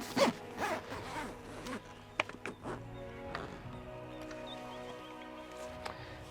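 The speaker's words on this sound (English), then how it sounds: "Grab your zip and you just walk her along." A zip is drawn along the fabric cover of an OCAM 270 Wingman awning, several quick rasping pulls near the start, then slower scattered zipping bursts and rustles at close range.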